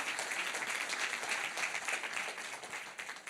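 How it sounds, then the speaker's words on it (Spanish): Church congregation clapping together during a sermon, a dense, even burst of applause filling the whole moment at moderate volume. "Dame un aplauso a Jesús, por favor."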